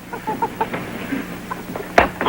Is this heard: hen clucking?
yes